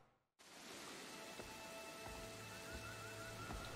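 Steady rain falls in the Assassin's Creed Freedom Cry game world, a broad even hiss starting abruptly after a brief silence and continuing without a break, with faint low rumbles beneath and no talk.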